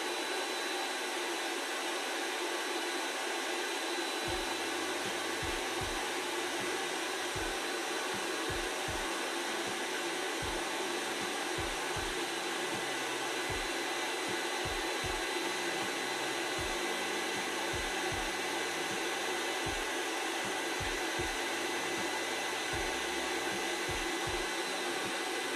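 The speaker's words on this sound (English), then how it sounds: "The fan you hear is the cooling unit inside of the induction heater." Cooling fan running inside an induction heater, a steady broadband whir holding at an even level throughout, with faint low thumps and clicks scattered beneath it from about the fourth second onward.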